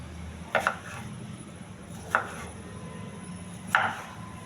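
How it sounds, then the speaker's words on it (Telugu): A knife chops cucumber into small pieces on a board, three sharp, separate knocks spaced over a few seconds against a quiet kitchen background. "కీర కూడా చిన్న ముక్కలుగా కట్ చేసుకోవాలి"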